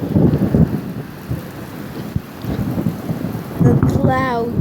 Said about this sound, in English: Did you guys see the thunder?